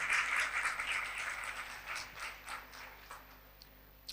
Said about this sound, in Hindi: जोरदार तालियों में कलाम को वेलकम करें।